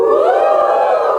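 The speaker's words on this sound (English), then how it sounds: "how many couples in the house? Give me a cheer." A standup comedy audience cheers and whoops together in one short, loud, sustained burst that fills the room.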